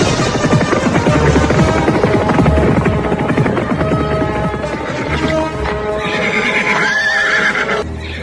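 Horses neigh and whinny loudly over a dense rumble of hooves as about five mounted soldiers led by a commander surround a place, a radio-drama effect filling the whole stretch with shrill calls rising near the end.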